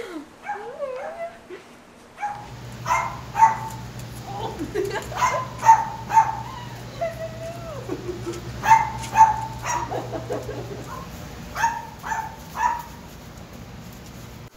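Two hound puppies at an animal shelter bark, yip and whimper in repeated short bursts close by, with people talking softly at times over a steady low hum.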